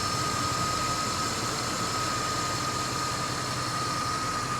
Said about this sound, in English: It's just a classic rear-wheel drive V8 American car